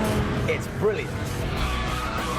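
A BMW M5 with a 500-horsepower naturally aspirated V10 drives hard, its engine note and tyre noise loud and close, running beneath someone talking over it.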